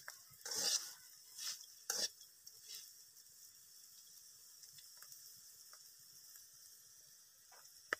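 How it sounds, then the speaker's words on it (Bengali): Bitter gourd and potatoes frying in a pan, stirred with a few scraping strokes early on over a soft, steady sizzle that carries on quietly afterward, with a faint click near the end. "মাঝে মাঝে করলাটা নাড়া দিয়ে নিতে হবে, না হলে নিচ থেকে পুড়ে যেতে পারে।"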